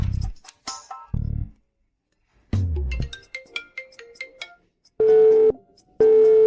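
A telephone call rings out unanswered, with two long, steady ringback tones near the end after scattered electronic beeps and tones, loud and close.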